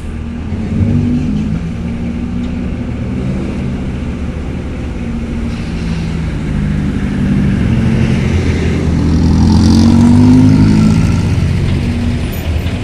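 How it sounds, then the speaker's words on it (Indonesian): Private cars rolling off a ferry at Bakauheni port at night, a loud continuous rumble of engines and tyres on the ramp that swells toward the end, with no talk. "Mulai dibongkar nih kendaraan pribadi untuk muat di upper deck"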